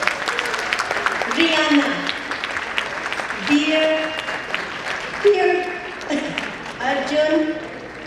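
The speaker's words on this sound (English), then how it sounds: "Where's the applause?" Audience applause at a Chinmaya Mission Chicago annual fundraising banquet: a steady wash of crowd clapping and cheering runs under a person speaking over a microphone throughout.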